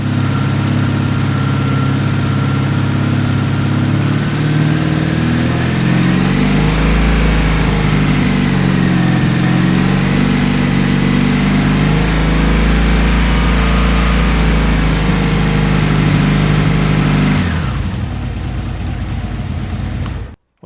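A motorcycle engine runs loud and close, holding a steady idle and then rising and falling through revs before cutting off abruptly near the end.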